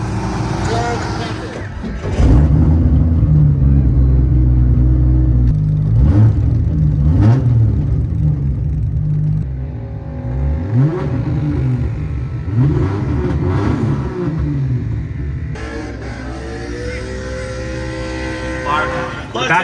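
A turbocharged Holden VL car engine revs up loudly and holds at a drag strip, then rises and falls in repeated surges, close by and dominating the scene.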